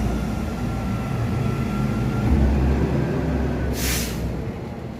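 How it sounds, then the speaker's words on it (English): Garbage truck driving past outside, a loud, steady low engine rumble that swells as it goes by, with a short hiss from the air brake near the end. "the garbage truck going by"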